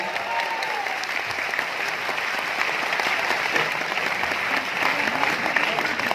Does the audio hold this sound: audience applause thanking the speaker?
yes